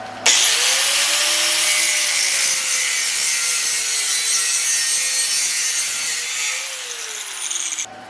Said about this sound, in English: You take a grinder with a cutoff wheel